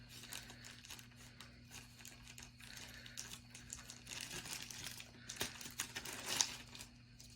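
Someone opens the packaging of a fox needlepoint kit. Faint plastic crinkling and rustling come in irregular bursts, growing a little busier toward the end, with no talking.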